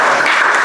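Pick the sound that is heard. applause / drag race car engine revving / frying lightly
applause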